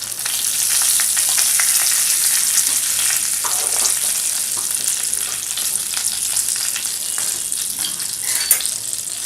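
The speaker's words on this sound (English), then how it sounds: "After your mustard seeds splutter, add curry leaves and then you add half a teaspoon of asafoetida." Mustard seeds, curry leaves and asafoetida frying in hot oil for a baby potato gravy, a loud, dense crackling sizzle that holds steady throughout with faint spatters and one sharp click near the end.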